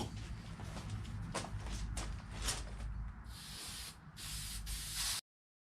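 Several short hissing bursts of spray adhesive onto boat seat cushions, close up, followed by two longer sustained sprays before the sound cuts off abruptly.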